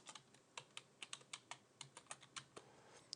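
Quiet, close computer-keyboard typing of a terminal command, a quick irregular run of about twenty crisp key clicks with brief pauses between bursts.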